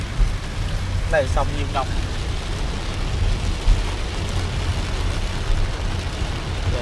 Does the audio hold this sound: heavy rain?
yes